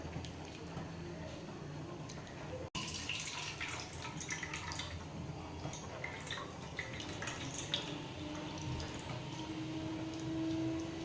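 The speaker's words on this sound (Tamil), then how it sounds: "மீன் குழம்புக்கு நம்ம புளி கரைச்சிக்கலாங்க" Tamarind being squeezed and dissolved by hand in a bowl of water for a fish curry, giving steady wet squishing and soft dripping close by, with a sharp click near the start.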